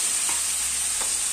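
Asafoetida being stirred into a pan of frying nimona, a Banarasi pea dish, with a steady sizzle throughout and two brief scrapes of the spoon against the pan.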